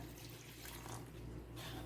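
Water runs steadily into a bowl of batter mix, a continuous splashing wash of liquid with a low background hum throughout.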